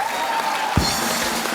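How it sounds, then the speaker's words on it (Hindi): A studio audience on a television comedy show keeps clapping in a steady, moderately loud wash, with a sustained musical tone and a dull thump partway through. "तो ताली बजाओ, बोले क्या शायरी थी ये।"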